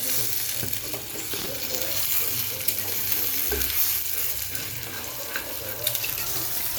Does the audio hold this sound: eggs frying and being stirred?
yes